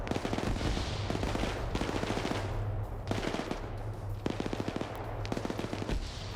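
Rapid automatic gunfire rattles in bursts during a player-versus-player shooter match, with dense volleys broken by short pauses and a continuous low hum underneath, loud and close.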